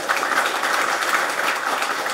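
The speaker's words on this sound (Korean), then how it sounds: "다시 한번 큰 박수를 부탁드리겠습니다" Steady applause from an audience at an award and scholarship ceremony, a dense, even wash of clapping filling the whole moment without voices.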